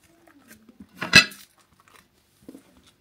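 Someone bites into a crisp galette up close, a single sharp crunch followed by a few soft chewing crackles in an otherwise quiet room.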